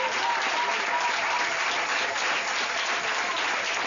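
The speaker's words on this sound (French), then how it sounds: "Acclamons très fort pour la parole du Seigneur." A church congregation clapping, a dense steady wash of applause from many hands sustained evenly throughout, with faint voices mixed in.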